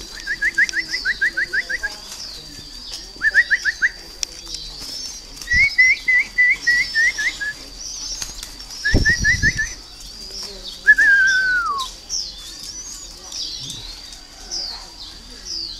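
Caged spotted doves give repeated rhythmic cooing phrases, close and clear, over a steady background of chirping and twittering from other birds, with a couple of brief knocks.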